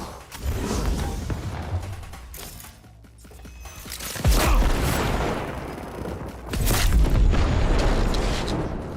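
A flashbang grenade bursts in a first-person shooter, heard as a deep boom and ringing wash followed by more heavy blasts and gunfire, loud and dense throughout.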